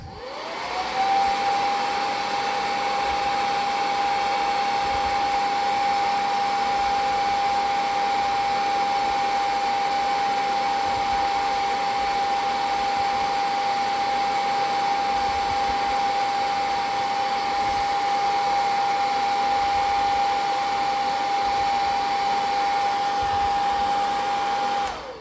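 A heat gun blows steadily on an action figure's plastic torso, a constant loud whirring rush with a high tonal whine, running alone for about 25 seconds.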